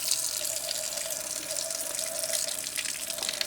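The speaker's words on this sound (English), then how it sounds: "I'm going to actually get some tap water here." A faucet runs steadily, water streaming with a constant bright hiss and splash from start to finish, close by.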